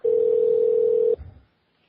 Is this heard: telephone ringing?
yes